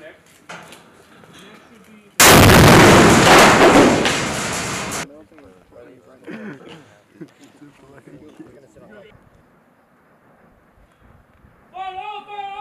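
Several guns fired at once during a midshipmen training exercise, one loud, sudden blast that rings out and decays over a few seconds, with voices and shouted commands before and after.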